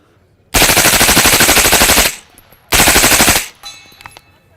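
Two sustained bursts of rapid automatic gunfire aimed at a target, the first about one and a half seconds long and the second shorter, loud and close, with a brief pause between them and quiet afterward.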